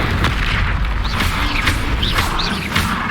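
A fire spell cast in Hogwarts Legacy roars as a dense, sustained magical blast with whooshing sweeps layered on top, loud and close and continuous for the whole moment.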